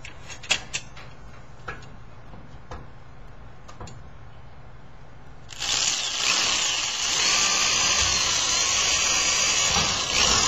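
Power drill boring a hole in a metal filing cabinet, kicking in after a few soft ticks and taps and then running steadily with a loud, bright whine for the last five seconds.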